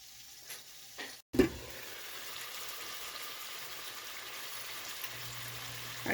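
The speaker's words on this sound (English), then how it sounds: "I'm going to put my lid on and let it sear for a few minutes on that side" Pork chops searing in a covered pan, a steady low sizzle running throughout after a brief lid clatter near the start, with a faint hum at the end.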